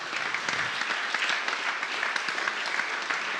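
Steady applause from a large concert crowd for a choir, a dense continuous clatter of many hands clapping with no voices on top.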